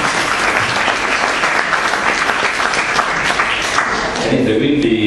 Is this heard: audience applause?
yes